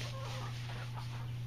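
Chickens in a backyard coop giving faint, soft clucks at a distance over a steady low hum.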